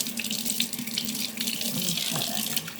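Running tap water rinsing paint brushes in a sink, a steady close splashing flow with bright hiss, continuous from start to finish.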